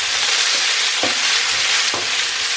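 Rosemary sprigs being stirred into a sausage mix with brown onion frying in a pan, giving a close, steady sizzle broken by a few scraping stir strokes, with no talking.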